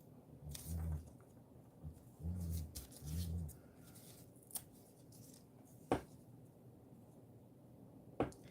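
Scissors snip through paper to cut out small mushroom and fairy craft shapes, a few short bursts of crisp cutting close by with quiet pauses and an occasional sharper tap.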